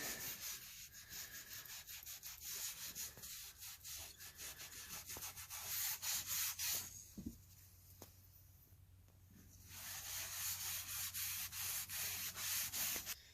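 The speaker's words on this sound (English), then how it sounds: "I'm just going to rub it on there nice and light." A t-shirt rag rubbing polyurethane onto a wooden snow sled, producing a steady, close scratchy swishing of rapid back-and-forth strokes that briefly pauses and then resumes, with no talking over it.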